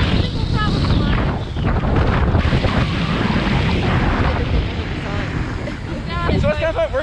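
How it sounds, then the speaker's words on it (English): Strong wind buffets the microphone with loud, gusty roaring high up on a tall Starflyer swing ride in Orlando, Florida, while voices talk over it intermittently. "It's so windy up here."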